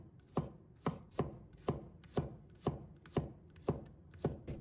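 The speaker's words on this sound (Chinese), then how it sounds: "蒜片我们要多切一点。" A kitchen knife slices garlic cloves on a cutting board, about ten crisp evenly spaced chops in a steady rhythm, close and clear with nothing else heard.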